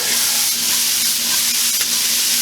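Already-shredded cauliflower, seasoned with salt and pepper, fries in a pan with a steady, close, dense sizzle and no talking.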